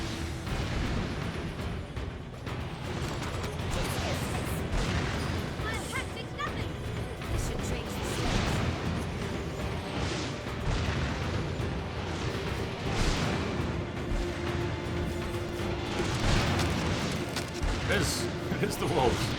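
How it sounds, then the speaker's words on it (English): Booming explosions and heavy bursts rumble throughout Dragon's Dogma, dense and continuous, with people talking over the chaotic battle noise as fire-driven wolves attack. "Tell me the wolves are causing the explosions."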